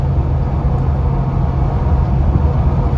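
A Jeep Gladiator cruises at 70 mph in sixth gear at about 2,500 RPM, heard from inside as a loud, steady low engine drone blended with road rumble, with no talking.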